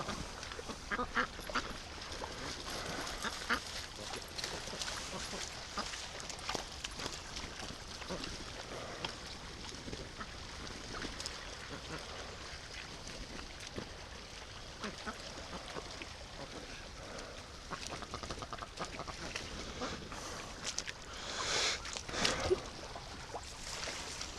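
Muscovy ducks at a lakeside with free-range ducklings, giving scattered soft quacks and calls at moderate distance over steady outdoor ambience and light water noise, with a few louder bursts near the end.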